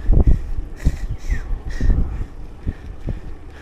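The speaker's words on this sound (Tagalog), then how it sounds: "Mahangin pa, oh." Gusty wind buffeting the microphone during a bike ride near a wind farm, in low, irregular rumbling bursts, loud and close.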